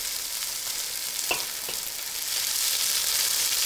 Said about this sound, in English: Keep scraping the pan and moving the chicken around until the pieces are sealed